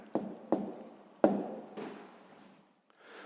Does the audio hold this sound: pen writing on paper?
yes